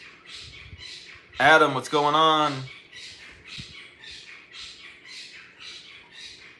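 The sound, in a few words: birds squawking in the background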